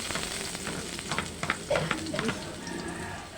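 Garlic frying and being stirred in a pan for a home-cooked chicken with patola and pechay dish, a steady sizzle with scattered scraping and clinks, fairly close, no voices.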